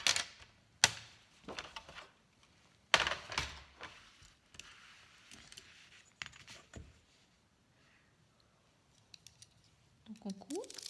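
Scissors snip through paper for an Easter calendar craft, a handful of separate crisp cuts with quiet pauses between, close and fairly soft, with a faint rustle of paper near the end.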